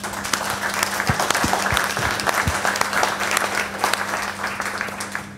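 Hearty applause from a conference audience after an on-stage discussion at an innovation summit, continuous dense clapping with a few louder nearby claps, sustained at steady volume under a faint low hum.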